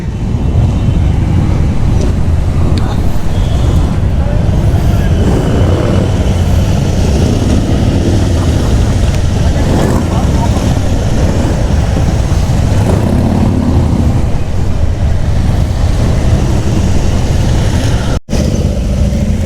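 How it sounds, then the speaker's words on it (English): Motorcycles including Harley-Davidsons and a BMW arriving at a group event ride in Bangalore, a loud continuous rumble of engines close by with wind buffeting throughout. "Okay अभी Harley का entry हो रहा है. नाइस. BMW भी है."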